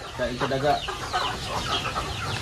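Heritage chickens cluck and squawk close by in a backyard coop, several rapid overlapping calls in a short burst, with a little background noise around them.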